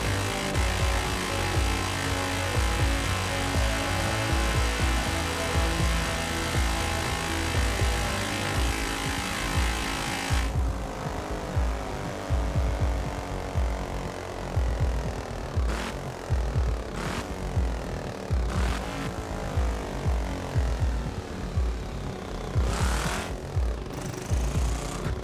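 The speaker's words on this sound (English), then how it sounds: "In 3rd place is the 1957 BMW Isetta 300 X-Sport." Engine of a 1957 BMW Isetta 300 X-Sport in the racing game Forza Horizon 4, a loud continuous buzzing drone that drops in pitch partway through, with a steady close throb underneath.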